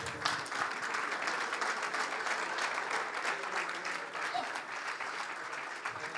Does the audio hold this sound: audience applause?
yes